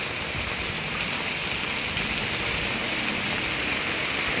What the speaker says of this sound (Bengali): প্রচণ্ড রকমের বৃষ্টি পড়তেছে